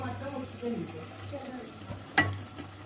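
Coconut and poppy seed paste fries quietly in a pan for a country chicken curry, with soft stirring and one sharp utensil clack near the end.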